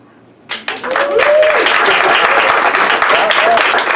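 Audience applause breaks out suddenly after a magician's sleight-of-hand trick at a comedy and magic show, a dense, steady wash of many hands clapping that holds loud for several seconds, with faint voices underneath.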